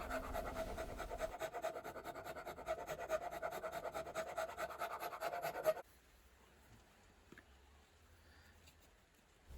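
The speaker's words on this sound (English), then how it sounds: "I always prefer to use a rasp and do it by hand and just take my time, try and get a nice neat fit." A hand rasp filing a wooden handle to fit a Brades 378 No1 hatchet head: quick rhythmic scraping strokes, close and fairly quiet, that stop partway through, leaving near silence.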